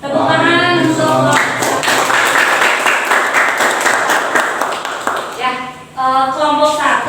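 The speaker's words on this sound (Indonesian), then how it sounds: "Tepuk tangan untuk" Classroom audience clapping after a group presentation on osteoporosis: a loud, sustained burst of many hands that starts after a brief spoken line and runs about five seconds before a voice resumes.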